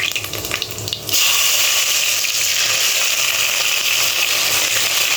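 Bay leaves and dried red chillies drop into hot oil for khichuri and set off a sudden loud, steady hiss of sizzling after about a second, following a quieter stretch of kitchen noise, close and continuous to the end.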